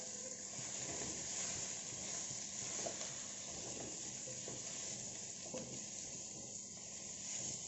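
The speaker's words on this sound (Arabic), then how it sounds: "هبتدي اقلب كده واخلي اللحمه بتاعتي كلها تتشوح بالبهارات" Meat sizzles steadily with spices in a hot pan, with scraping and clattering as it is stirred, close and continuous.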